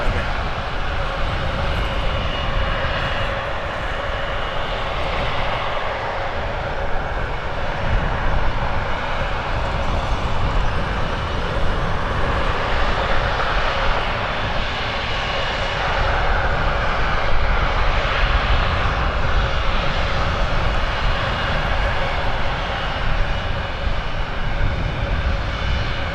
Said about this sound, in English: Learjet 40 is coming in